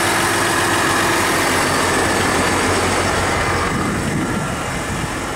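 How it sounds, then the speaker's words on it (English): A 2020 3.0L Duramax diesel idles steadily up close, a smooth, fairly quiet rumble with a faint diesel clatter, holding an even level throughout with no voices. "For a diesel, these things are quiet, but they're still a diesel."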